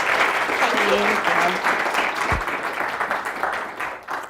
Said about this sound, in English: Please help me welcome her with a big round of applause.